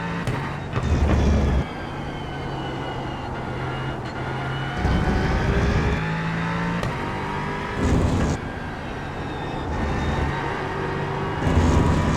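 A GT3 race car engine in the iRacing sim holds a steady, loud drone, with pitch shifts and short bursts of revving as the car changes speed. No voices.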